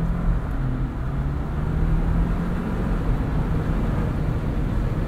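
A 2021 Jeep Wrangler Rubicon 4xe plug-in hybrid accelerating in 4 auto, heard from inside the cabin as a steady low engine and drivetrain rumble mixed with road noise.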